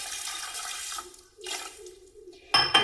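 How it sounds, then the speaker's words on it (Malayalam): Water is poured over washed grains and fenugreek in a bowl to soak, a short gushing splash in two bursts, followed by a brief clatter. "ഇനി വെള്ളം ഒഴിച്ച് നമുക്ക് കുതിരാൻ വെക്കാം"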